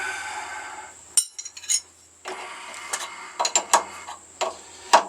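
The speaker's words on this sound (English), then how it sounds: "Run these bolts down. Get the wrenches out of my pocket. Tighten them up." Metal wrenches clink and ratchet while bolts are tightened on a Taylor T1000 outdoor wood stove, a series of short, sharp metallic clanks and scrapes in irregular bursts with quiet pauses between.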